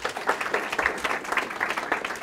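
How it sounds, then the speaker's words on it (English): Audience in a lecture hall clapping steadily after a speaker's introduction, a dense even patter of many hands at moderate volume. "You shouldn't clap now."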